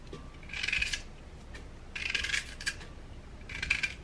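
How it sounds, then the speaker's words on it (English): Knife slicing fresh ginger root on a cutting board in a home kitchen, three short bursts of crisp cutting strokes, close and fairly quiet, with no talking. "Ginger is nice and cut."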